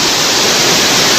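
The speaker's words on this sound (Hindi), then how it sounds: "ये खौफनाक रफ्तार में बहता पानी अपने साथ बहुत सारा मलबा लेकर आ रहा है" Floodwater rushes through Kullu after heavy rain, carrying a lot of debris, a loud, dense, continuous roar with no break.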